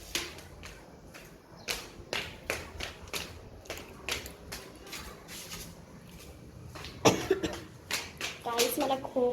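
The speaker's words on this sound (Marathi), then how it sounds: "मला खोकला खूपच यायला लागलाय" Someone coughs repeatedly outdoors while heading downhill after a sunset view, with short sharp bursts scattered among steady tapping noises and a few louder, harsher coughs near the end.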